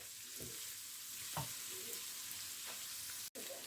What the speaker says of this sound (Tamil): இந்த வெங்காயத்தோட இப்போ போட்டிருக்கிறேன். கொஞ்சம் அது நிறம் மாறும் வரையும் இதை நான் கொஞ்சம் வதக்க போகிறேன்.